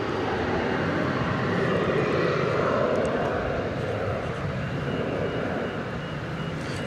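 Passenger jet airliner arriving at DFW Airport at night, a broad continuous engine roar that swells and slowly fades, distant-to-moderate and steady throughout.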